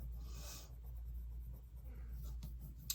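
Soft, steady scratching of a colored pencil shading across paper, close and quiet, in short continuous strokes.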